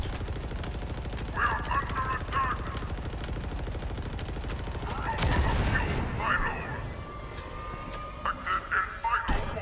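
Distant sniper and automatic gunfire in a Halo Infinite outpost battle, steady crackling shots under in-game voices and a player talking, with a louder burst midway.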